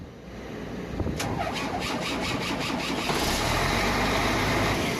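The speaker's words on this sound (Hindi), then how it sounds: "जैसा कि आपने देखा कि गाड़ी जो है कैसे स्टार्ट हुई" A Mercedes-Benz car with a battery problem cranks with a quick series of starter pulses for about two seconds, then catches and settles into a steady, loud idle close by.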